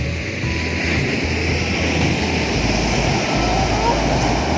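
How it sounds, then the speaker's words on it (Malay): Big ocean waves roll in on a beach in West Aceh, a steady loud wash of surf with wind buffeting the microphone. "Yang ini ombak dia besar juga."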